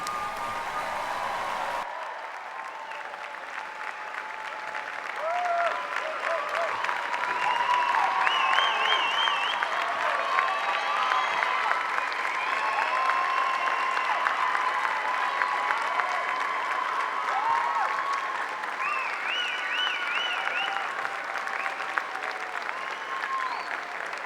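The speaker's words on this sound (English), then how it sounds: "let's give these group a round of applause" A college commencement crowd applauds the graduating class of 2019 at Young Harris College, sustained loud clapping that swells and holds for over twenty seconds, with faint musical tones underneath.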